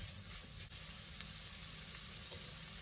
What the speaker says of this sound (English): Let that fry up and brown